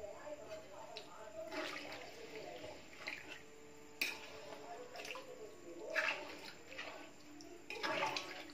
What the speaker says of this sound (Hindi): और इसमें हम पानी डालेंगे।